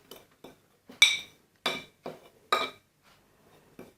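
A spoon clinks against a bowl while mixing a home hair remedy of black stone powder, a series of sharp, close metallic taps spaced irregularly with quiet gaps between.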